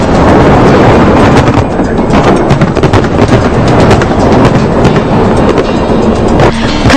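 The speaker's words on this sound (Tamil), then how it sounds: "கண்ணை கவரும் வான வேடிக்கைகளுடன் ரஷ்ய தலைநகர் மாஸ்கோவின் புது வருடத்தை மக்கள் ஆர்வத்துடன் கொண்டாடி வருகின்றனர்" New Year fireworks over Moscow crackle and bang in a dense, continuous barrage, loud and close, with rapid sharp bursts layered over a steady roar for the whole stretch.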